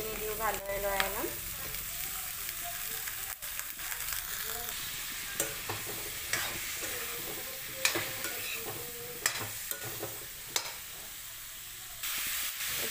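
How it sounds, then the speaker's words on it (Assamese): Cauliflower sizzles and fries in a pan while being stirred, a soft steady crackle broken by scraping clicks and knocks of the spatula against the pan, close and fairly quiet. "ইয়াতে এতিয়া মই ফুলকবিখিনি দি দিম ফুলকবিখিনি দিও ভালদৰে লৰাই ল'ম"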